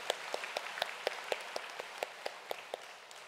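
A church congregation claps together in a steady, even rhythm, about four beats per second, filling the room with no one speaking.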